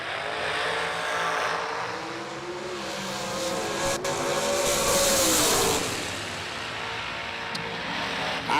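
Two drag race cars launch side by side down a strip, one with a head start, a loud roaring engine sweep that rises and fades with passing whine and no talk over it.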